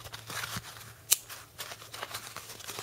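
A Kershaw Chive pocket knife cuts through material in a short demo, with one crisp slicing snip amid faint rustling and handling noise, close up.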